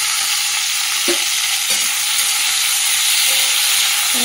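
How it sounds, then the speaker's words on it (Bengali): Round slices of bitter gourd fry in hot oil, giving a loud, continuous close-up sizzle with a few faint clinks of a utensil against the pan and no talk. "এই যে তেল গরম হয়ে গেছে, আর এই যে ছেড়ে দিলাম, ভাজা হোক"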